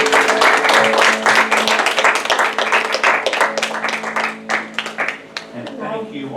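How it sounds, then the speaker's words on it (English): An audience in a church gathering breaks into clapping, a dense patter of many hands that gradually thins into scattered claps, with voices and chatter mixed in. "Now we need to clap for you."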